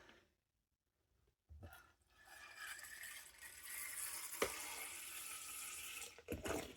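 Methylated spirit is poured into a Trangia alcohol burner, a faint steady liquid trickle starting after a near-silent moment, with a few small clinks of metal, heard up close and quietly.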